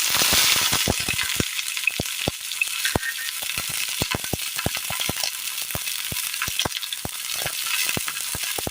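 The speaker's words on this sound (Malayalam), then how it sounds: "ഇതിലേക്ക് നമുക്ക് സബോള ഇട്ട് കൊടുക്കാം" Mustard seeds and sliced onion fry in hot oil for a Kerala mezhukkupuratti, a constant bright sizzle with many sharp pops and crackles close up, no talking.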